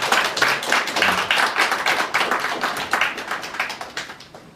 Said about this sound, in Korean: 박수 한번 시원하게 한번 해주시죠.